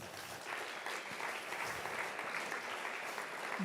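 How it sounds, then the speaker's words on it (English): An audience at a product event claps in a thick, steady round of applause, many hands blending into a continuous, fairly distant wash with no pauses. "we need to have one big applause for the two of them"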